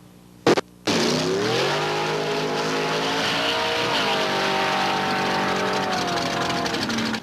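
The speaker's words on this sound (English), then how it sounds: "we look at a new breed of dragster hitting the strip near Yakima" A new-breed dragster, one of only five of its kind in the country, roars down a drag strip near Yakima: a short burst, then a loud, sustained engine howl whose pitch climbs in steps, with no voices.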